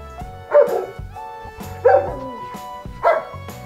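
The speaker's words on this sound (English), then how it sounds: "Bark like a dog." Three evenly spaced dog barks play from an Alexa smart speaker, clear and fairly loud, with soft background music-like tones between them.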